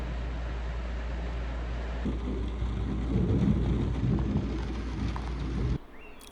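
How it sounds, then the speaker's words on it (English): Steady heavy rain pours during a British summer thunderstorm around a moored narrowboat, with low rolling thunder swelling midway before the downpour cuts off abruptly near the end. No voices. "The storm seemed to clear the air"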